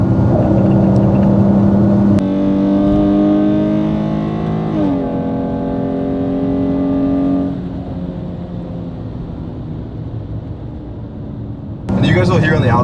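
A Dodge Charger with a universal valved muffler held open drones loudly from inside the car as it accelerates, the exhaust tone climbing in steady stages before easing back, while people talk over it.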